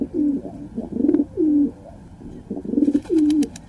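Pigeons coo in a close, repeated series of soft, throaty rolling calls, four or five phrases with short pauses between them, and no voices are heard.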